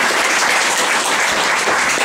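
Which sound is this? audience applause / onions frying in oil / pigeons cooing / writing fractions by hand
audience applause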